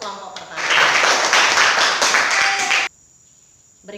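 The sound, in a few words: applause for the first group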